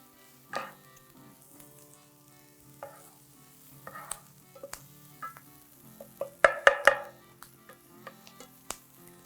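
Onions cooking down in a pan, with intermittent spoon scrapes and stirring clatters over a soft sizzle, close and fairly quiet, with a busier burst of stirring near the end.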